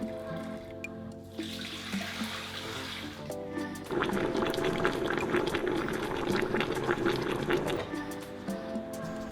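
Tonkotsu ramen broth boiling in a pot for an Ippudo-style shiromaru ramen, a steady close bubbling and rolling simmer that grows louder and denser partway through, with a faint steady hum behind it.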